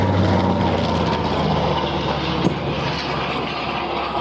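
Grumman Avenger propeller aircraft flying at an air show, its engine a loud, broad continuous roar that is steady throughout and fades slightly toward the end.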